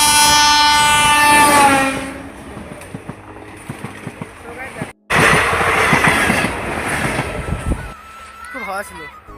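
A train passes close by, its loud sustained horn blaring first, followed by the rhythmic clatter of wagons rolling along the track, then fading; a voice speaks briefly near the end.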